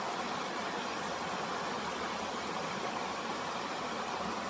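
Creek water flows in a continuous, even rushing hiss, close by and unchanging, with no voices.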